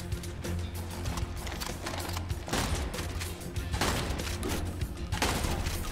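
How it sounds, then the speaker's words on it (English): Shotgun fire in the video game Immortal Redneck, with dense, continuous booming blasts and game action noise running steadily throughout at a fairly even loudness. "Yeah, shotguns."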